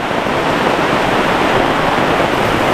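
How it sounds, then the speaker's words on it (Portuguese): Strong storm wind roars at a riverside campsite, a dense, loud and unbroken rush of noise with no voices. "E tá um vento muito bacana, ó. Agora tava sem vento nenhum. Agora tá ventando"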